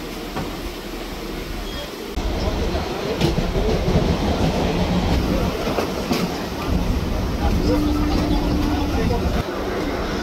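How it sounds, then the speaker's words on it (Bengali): A Naihati–Sealdah local train runs from Belgharia toward Sealdah with a loud, steady rumble and rhythmic wheel clatter heard from inside. Voices talk over the din. "বেলঘরিয়া থেকে ট্রেনে চেপে রওনা দিলাম শিয়ালদার উদ্দেশ্যে।"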